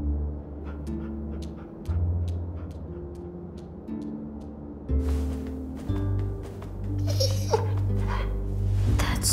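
Soft, intermittent dog whimpers and small yips from the headmaster's dog in The Walking Dead video game, faint over low droning game music and ambient rumble.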